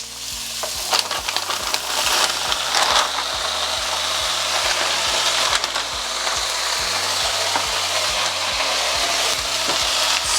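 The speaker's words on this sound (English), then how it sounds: "I'm gonna lower the heat a little bit and throw the okra in." Okra tossed into a hot pan with onions, garlic and ginger, sizzling steadily and loudly up close while a utensil scrapes and stirs in repeated strokes.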